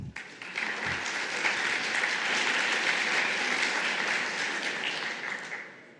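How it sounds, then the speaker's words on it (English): A nearly full hall at a legal technology side event bursts into applause, a dense and even spread of clapping that starts quickly, holds steady for several seconds, then fades toward the end. "So let's give a round of applause for you guys."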